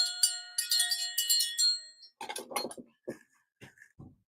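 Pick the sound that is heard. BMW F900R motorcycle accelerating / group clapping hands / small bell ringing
small bell ringing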